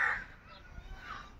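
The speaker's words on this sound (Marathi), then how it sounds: "कावळा ओरडते" A crow caws near the start and again about a second later beside an old mud house being pulled down, the calls fairly clear over a low background rumble.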